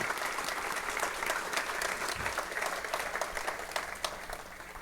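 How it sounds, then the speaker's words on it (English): Sustained applause from a gala audience at a hospital fundraiser, dense and steady throughout, loud and close, with no talk over it. "join me in a round of applause for them"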